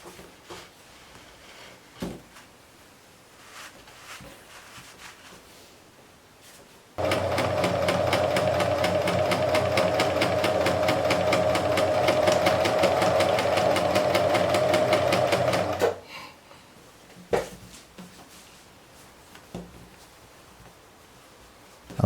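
A sewing machine stitches up the top of a fabric drawstring bag in one steady, loud, continuous run of about nine seconds. Quieter handling noises come before and after the run.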